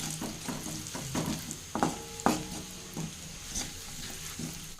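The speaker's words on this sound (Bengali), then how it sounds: "এখন চলো একটু ভেজে নেব মশলাটাকে" Spices sizzling and crackling in hot oil, with a few sharp scraping stirs of a utensil against the pan, close and without talk.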